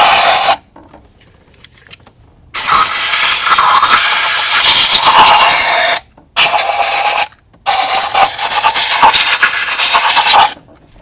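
Compressed air blowing dirt from the coil pack area of a GM Ecotec 1.4L turbo engine, heard as loud, close hissing blasts in three long bursts separated by brief silences.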